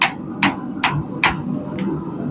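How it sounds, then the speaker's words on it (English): Hammer tapping a metal throwing knife on an anvil at a forge: four sharp, ringing metallic strikes at an even rhythm, then a fainter fifth tap, close and clear over a low background hum. "You can hear the metal kind of hitting the anvil"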